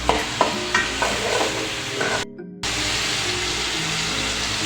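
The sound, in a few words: onions and chillies stir-frying in pan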